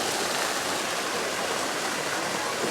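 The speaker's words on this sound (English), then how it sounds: "they added these like water fountains on the side of the castle" Water fountains splash on the side of Disneyland's castle at night, a dense and constant rushing hiss of falling water, loud and steady, with no talk.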